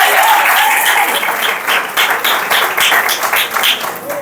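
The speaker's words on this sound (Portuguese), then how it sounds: "Pode aplaudir o Eterno." A church congregation applauds during a family worship service, a dense, steady wash of many hands clapping that rises and dips slightly in waves throughout, with no speech over it.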